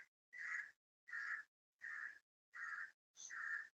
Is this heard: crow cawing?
yes